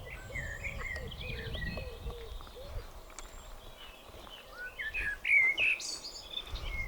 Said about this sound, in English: Listen, what sort of bird's that, John?